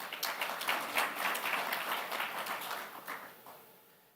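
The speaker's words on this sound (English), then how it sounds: "So you should clap for Ethiopia there." Audience applause fills a hall during a Safaricom full-year results presentation: a dense patter of clapping at moderate volume that gradually fades toward the end, with no voices over it.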